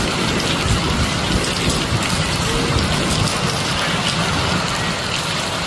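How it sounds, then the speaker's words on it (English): Heavy rain pours down in a steady, loud, unbroken hiss, the first real rain of the season filling a cistern, with no voices. "this is finally our first real rain."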